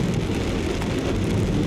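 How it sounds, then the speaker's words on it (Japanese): Heavy typhoon rain heard from inside a parked or moving car in rural Okayama, Japan: a dense, steady roar of drops drumming on the roof and glass, loud and unbroken, with no voices. "明らかにこの前の台風より雨が強いです。"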